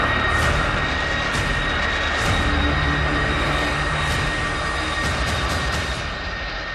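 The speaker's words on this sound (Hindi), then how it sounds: "ये है दुनिया के सबसे शक्तिशाली शख्सियत का सबसे बलशाली विमान। नाम है एयर फोर्स 1।" Air Force One, the US presidential jet, gives a steady, loud roar of aircraft engines, a broad continuous rumble and hiss heard at a distance without any talking.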